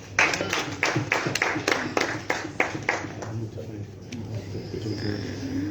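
An audience claps in a burst of sharp, fairly steady hand claps at a youth peace and tolerance gathering in Zimbabwe, with voices talking underneath. The clapping thins out after a few seconds.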